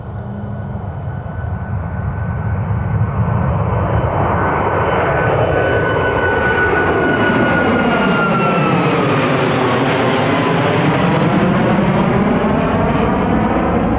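A TUI airliner taking off at Newcastle Airport, a loud sustained jet engine roar that swells and shifts in pitch as the aircraft passes close by, with no speech over it.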